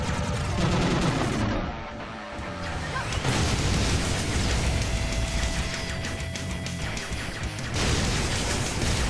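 An upgraded super gun fires in the Iji video game. Loud rapid bursts run almost without a break for about nine seconds and mix with blasts and a dense wash of noise.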